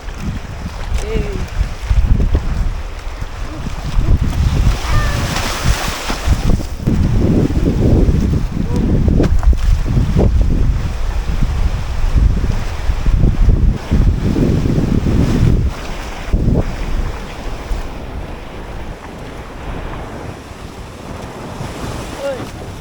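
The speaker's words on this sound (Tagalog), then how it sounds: "malalakas yung alon" Strong ocean waves surge and break in shallow water, a loud rolling roar with repeated crashing swells mixed with wind buffeting the microphone, while people talk intermittently nearby.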